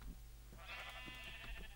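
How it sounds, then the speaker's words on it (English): A single sheep in the Minecraft video game lets out a wavering bleat, faint and alone over a low background hum, lasting under a second mid-clip. "Wow, there's a lot of fucking sheep."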